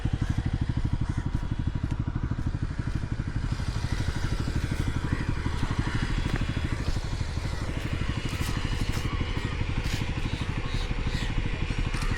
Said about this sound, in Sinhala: බයික් එක ස්ටාර්ට් එකේම තියෙනවා.